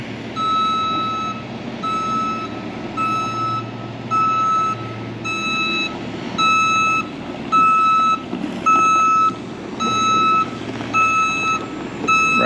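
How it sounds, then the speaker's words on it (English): A brand-new dump truck, about two weeks old, backs up at a culvert construction site, its reversing alarm beeping in a steady repeating pattern over a low engine rumble, loud and near throughout. "We got a nice brand new pretty dump truck."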